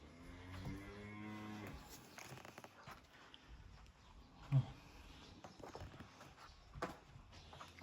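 Simmental cattle moo several times in a farm setting, with long low calls early on alongside other livestock noises and occasional clatter.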